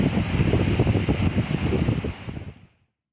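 Strong gusting wind with rain from Cyclone Nisarga, a broad roaring rush with buffeting bursts that fades out abruptly near the end, no voices.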